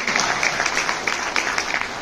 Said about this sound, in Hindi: इसके लिए तालियां बजाइए